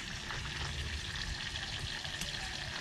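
Oil sizzles in a pan for a red snapper and shrimp broth, with a steady, close crackling fry and faint stirring scrapes throughout and no talking.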